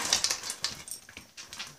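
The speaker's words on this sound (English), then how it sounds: "I was just feeding my puppies." Puppies whimpering and yipping while being fed, a rapid run of short high whines close by, no talking.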